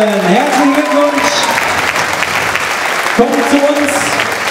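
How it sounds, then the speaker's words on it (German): A crowd at a sports awards gala applauds a third-place team loudly and steadily throughout, while a voice speaks over it at the beginning and again near the end. "wollen wir für den dritten Platz genau denselben Applaus haben"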